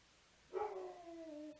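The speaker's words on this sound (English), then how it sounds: "Sorry about that. That's my dog." A household dog lets out one close bark that trails off into a drawn-out whine, then stops with an abrupt sound at the end, in an otherwise quiet room.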